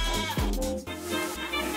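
A goat bleats loudly and repeatedly in wavering, nasal cries, close by.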